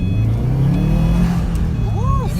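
Subaru WRX engine holds a steady high rev in first gear, a loud continuous rumble close by with a slight rise and fall, no talking.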